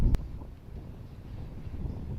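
Wind blowing across an outdoor disc golf course, a steady low rumble of microphone buffeting with a brief thump at the start and no speech.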